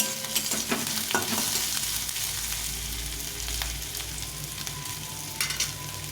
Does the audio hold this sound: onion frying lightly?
yes